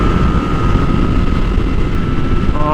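Kawasaki ZX-10R motorcycle engine roars at speed on an open road, a loud, steady, buzzing drone close by with heavy wind rush, the pitch rising slightly near the end.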